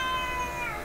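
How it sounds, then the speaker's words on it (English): A house cat gives a single short meow close by, bright and slightly falling in pitch, heard alone under less than a second of quiet room tone. "Oh, the cat's come to my rescue."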